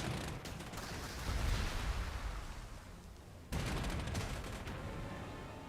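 Strafing aircraft guns rattle in Panzer Corps 2, a faint, dense burst of rapid gunfire that fades, then cuts back in abruptly for a second sustained volley.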